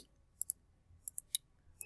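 Computer mouse buttons click quietly in PowerPoint, with several sharp, faint clicks close together in pairs and singles against near silence.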